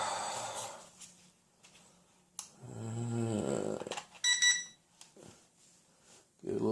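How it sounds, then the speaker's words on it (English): An Eachine E58 drone transmitter gives a short, clear electronic beep in a brief burst, close by, between stretches of a person talking and some handling noise. "Get a little beep out of that."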